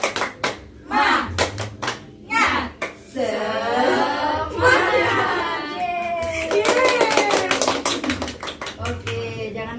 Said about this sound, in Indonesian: Oke, sekarang tepuk semangat.